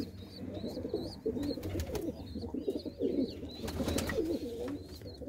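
Large pigeons in a loft coo repeatedly, overlapping soft rolling calls close by, with light rustling and a few faint higher chirps alongside.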